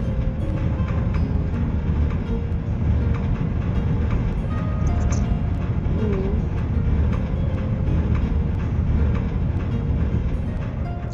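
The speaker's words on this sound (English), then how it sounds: "The train starts to inch forward, and you feel the rumbling of the wheels off to Hogwarts." A train in the Minecraft video game rumbles steadily along its track, a continuous close wheel-and-carriage drone filling the scene, with a brief faint whistle-like tone partway through and no talk.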